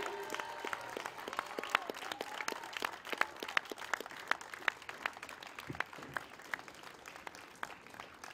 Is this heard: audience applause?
yes